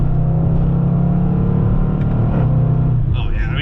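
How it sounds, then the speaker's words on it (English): A Range Rover SVR in sport mode pulls hard with a loud, deep engine drone, shifting manually as the pitch steps, with faint talk near the end. "So we got it in sport, shifting manually."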